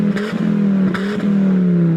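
Toad's cartoon motorcar pulls away with a rising, sustained engine whine and some clattering rattles near the start, loud and close, then the tone settles into a steady drone.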